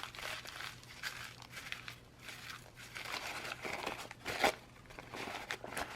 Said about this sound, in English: I'm going to crumple it up just a little bit more.